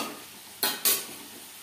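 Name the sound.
coriander being dry-roasted and stirred in a hot kadai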